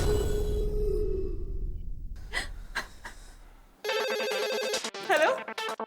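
A telephone rings with a repeating electronic tone, preceded by a breathy gasp and a few short sounds, the ring coming in loud and near for the last two seconds.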